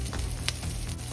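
Ginger, curry leaves and chilli hit hot oil for upma, giving a loud, close, steady hiss with a couple of quick crackling pops.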